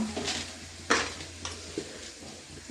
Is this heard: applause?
no